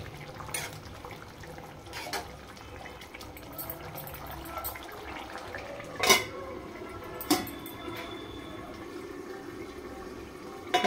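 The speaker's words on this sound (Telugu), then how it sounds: "ఒకసారి కలిపి ఒక 5 నిమిషాలు మూత పెడదాం." A metal lid clinks onto a pot of drumstick chicken curry, two sharp kitchen clatters standing out over a soft, steady background of faint pot and utensil noise.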